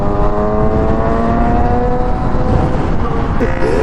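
2016 Yamaha FZ-09 motorcycle engine while riding, a loud steady droning hum with rising tonal whine as it accelerates, continuous and close throughout.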